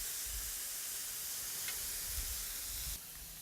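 Prawns sizzle on a barbecue, a quiet steady hiss with a low rumble under it, one brief faint pop, then a slight drop in level near the end.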